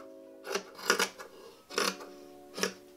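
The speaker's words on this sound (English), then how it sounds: "I'm going to just cut down these sides because we had a lot of extra fabric here" Fabric scissors snip through excess cloth along the sides of a sewn milkmaid top, giving four separate crisp cutting bursts spaced about a second apart, close and clear with no talking.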